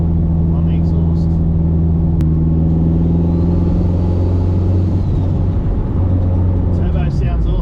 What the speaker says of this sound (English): Turbo sounds awesome though, it'd be hard to get rid of that.